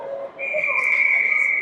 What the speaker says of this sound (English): And so we'll have a whistle.